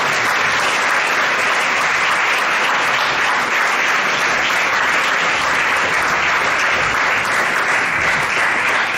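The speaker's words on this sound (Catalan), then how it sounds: "un fort aplaudiment per Lluís" Loud, sustained applause from a large crowd, steady clapping filling the room without pause for the whole stretch.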